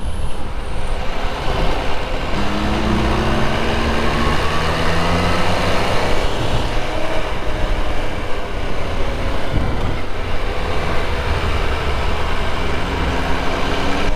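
A 2024 MV Agusta motorcycle ridden on a demo day, its engine droning steadily and loudly throughout with rising and falling tones as it accelerates, no talking.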